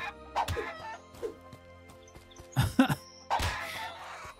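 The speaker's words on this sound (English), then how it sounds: "Poor little chickens." Chickens cluck and squawk in an open-world RPG video game, several short agitated bursts at irregular intervals over a quiet background, some louder near cries toward the end.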